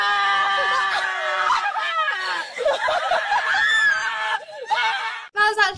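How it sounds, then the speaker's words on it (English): A zebra screaming for food, a long braying, squealing call with wavering rising and falling tones, close and loud, breaking off near the end. "The zebra making the noise."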